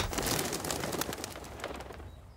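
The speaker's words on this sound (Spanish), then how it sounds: "Tienen que reunir todas las palomas y traerlas de vuelta." Pigeons coo and flutter close by in a dense, continuous chorus, with soft rhythmic cooing and scattered wing and bird sounds filling the whole stretch without pause.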